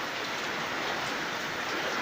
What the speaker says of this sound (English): the rain is coming down quite hard.